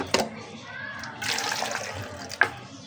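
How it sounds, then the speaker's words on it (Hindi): Water poured into homemade aloo bukhara (plum) juice with sugar, a close splashing pour running a couple of seconds between brief clinks, with a voice speaking alongside. "इसके साथ जाएगा पानी"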